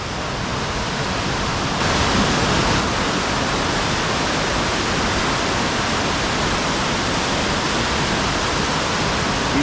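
A giant underground waterfall roars inside a cave, a loud dense wash of falling water that swells slightly after two seconds and stays constant, with no voices.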